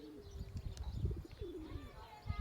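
Two pigeons coo softly at close range, low repeated throaty calls with a few faint chirps around them in a quiet outdoor setting.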